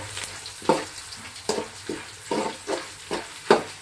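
Crushed garlic, curry leaves and dry red chillies frying in hot oil for a spiced flattened-rice snack, with a steady sizzle broken by about seven sharp spatula stirs and scrapes against the pan, close and clear with no voices.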